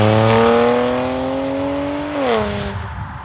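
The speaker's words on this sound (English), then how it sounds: "you will definitely hear the exhaust when you're on it," BMW M2 Competition with a Milltek equal length exhaust in comfort mode, accelerating with a steadily rising engine note that drops sharply at a gear change, then fades, heard close with no talk.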